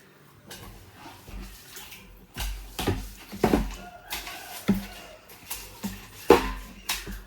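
A machine draws the last of the wash water out of a domestic water tank being cleaned, with irregular gurgling, sloshing bursts and splashes over a low background hum.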